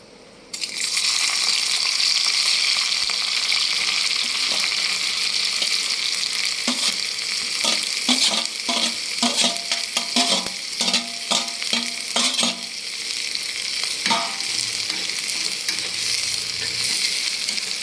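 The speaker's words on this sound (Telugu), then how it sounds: "ఆయిల్ వేడెక్కిందండి, మనం ఇందాక కడుక్కున్న రొయ్యలు అనేది ఆయిల్లో వేసి వేయించుకుందాము" Prawns are dropped into hot oil and fry with a loud, steady sizzle that fills the clip, while stirring adds clattering scrapes through the middle section.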